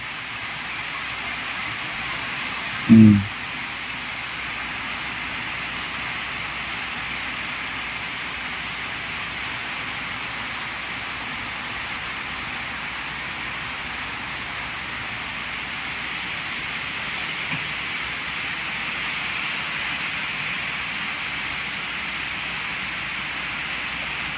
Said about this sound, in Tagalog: Ang ulan, magdamag.